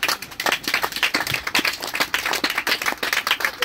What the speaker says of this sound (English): Please let me clap for him.